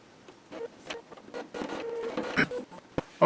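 An Epson R260 inkjet printer fitted with a continuous ink supply system starting up, with whirring motor runs, mechanical clicks and brief carriage movements in an irregular sequence, fairly close and alone without talk.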